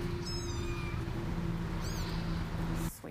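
Tiny three-week-old kittens rescued from a dumpster meow in high, thin cries, two or three short calls close by against a low background hum.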